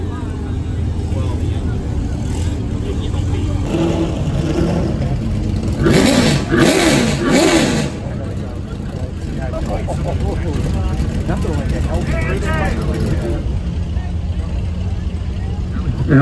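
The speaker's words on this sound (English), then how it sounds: "1934 Duesenberg with a Cummins diesel motor." A 1934 Duesenberg fitted with a Cummins diesel engine runs at an outdoor concours award presentation. The engine idles and briefly revs louder midway, with voices talking over it.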